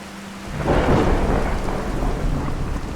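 Heavy rain pours steadily in the Fallout 4 video game as a deep rumble of thunder swells in after a brief quiet start, rolling loudly over the downpour for several seconds with no talking.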